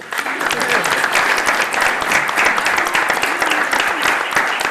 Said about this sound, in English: If we can get a round of applause quickly.